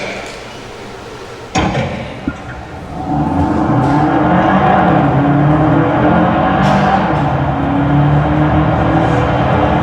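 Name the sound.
Hyundai hybrid car accelerating at test track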